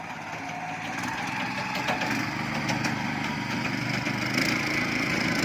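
A power tiller with a brake trailer has its small engine revved, a rising buzzy clatter that swells and holds near and loud, with a rattling mechanical edge.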